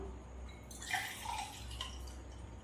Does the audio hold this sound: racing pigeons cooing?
no